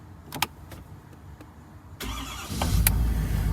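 A few faint clicks, then a truck engine cranks on its batteries and catches, rising into a steady low idle rumble close by.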